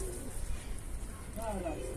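Pigeons coo softly at a coop under steady low background noise, with a brief rising call near the end.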